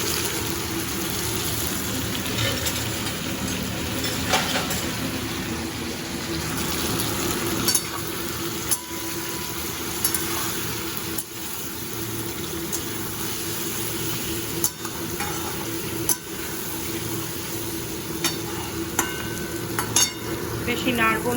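Boiled potatoes fry in a pan with a steady, close sizzle, while a utensil stirs and scrapes them in irregular clinks and knocks over the continuous hiss.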